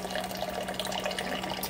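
Water streams from a push-button water dispenser during a morning coffee routine, a steady, fairly quiet hiss of flowing liquid that continues without a break.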